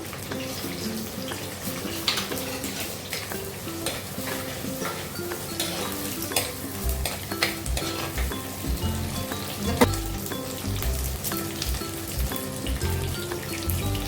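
Sliced onion, garlic cloves and whole green chilies sizzle and crackle steadily in hot oil for a fish kulambu, with frequent stirring scrapes and clinks throughout and no talk.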